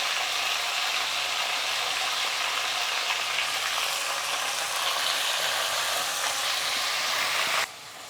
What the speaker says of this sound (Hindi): कम से कम हम 8 से 10 मिनट मटन को और प्याज को फ्राई करते रहेंगे